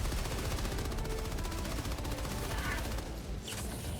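Sustained machine gun fire from the Helldivers 2 game fills the whole stretch, a dense continuous rattle of rapid shots at steady loudness, thinning slightly near the end.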